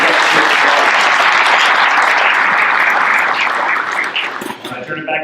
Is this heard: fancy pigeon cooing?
no